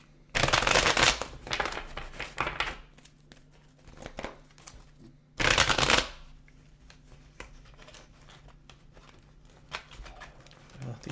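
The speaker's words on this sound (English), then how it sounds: "I want to give this deck a shuffle before looking at this Knight." Tarot cards riffled and shuffled in two loud bursts, with softer sliding and tapping of the deck in between, close by.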